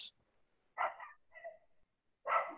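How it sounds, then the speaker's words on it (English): A dog barks across the street, faint and distant, with three or four short separate barks spread over a few seconds in an otherwise quiet room. "Is that your dog barking there, Brian?"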